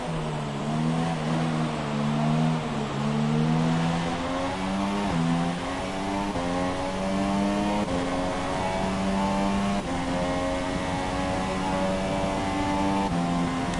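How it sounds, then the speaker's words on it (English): A Mercedes race car in an F3 trial race in Hungary accelerates out of the pits, its engine note climbing steadily through successive gear changes, loud and continuous over the full length. "The car coming out of the pits."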